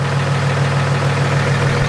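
Monster truck engine idling while parked on top of an iPhone, a steady loud low throb with an even rhythmic pulse, close by, no voices.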